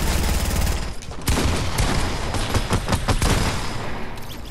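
A shotgun and other weapons fire in Fortnite, a dense, loud barrage of booming blasts and crackling shots packed close together.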